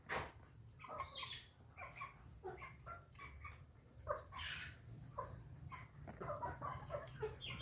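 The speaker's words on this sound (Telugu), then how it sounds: "ఇవైతే మన కోళ్ళు అనమాట." Small country chicks peep and cheep in quick overlapping bursts near a home yard, a busy, continuous chorus of thin high calls with scattered louder chirps.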